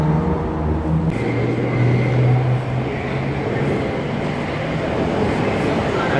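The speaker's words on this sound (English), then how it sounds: "Oh, new Skytrain." Vancouver SkyTrain at an Evergreen Line platform, a loud, steady rolling rumble with a rising whine and brief tonal hums, heard up close with no clear talking.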